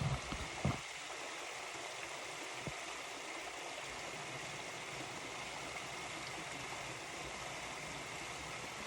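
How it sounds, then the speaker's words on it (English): A river flowing near a waterfall in Uttarakhand, heard as a steady, broad rushing of water that fills the scene without pause, with a couple of faint knocks at the start. "the river flowing"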